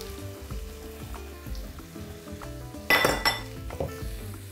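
Mushrooms fry in a pan while pesto pasta is being made, with a soft sizzle beneath clinks and scrapes of a utensil against cookware and one louder clatter midway.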